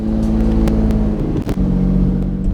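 A 2001 Lamborghini Diablo VT 6.0 engine drones steadily and loud while driving on the road, with a brief dip and surge midway as the revs change.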